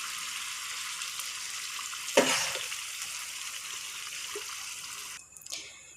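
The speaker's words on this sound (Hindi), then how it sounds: "वो पानी शामिल करेंगे हम इसके अंदर।" Leftover meat-broth water poured into a pot of broken rice for biryani: a brief splashing gush lands over a steady background hiss, then fades, with a clink near the end.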